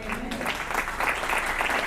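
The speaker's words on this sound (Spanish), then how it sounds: "Dale un aplauso a Cristo." A church congregation applauds during a sermon, a short, dense burst of clapping heard at moderate level.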